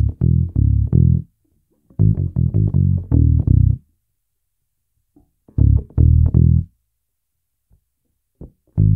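A 5-string bass guitar plays a phrase in short groups of deep, punchy plucked notes separated by silent gaps, loud and close with nothing else heard.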